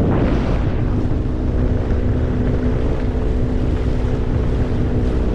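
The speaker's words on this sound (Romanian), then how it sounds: "S-a pus vântul foarte tare" Strong wind roars and buffets the microphone continuously during a storm on a boat fishing on the Black Sea, a loud, dense rushing noise with no break.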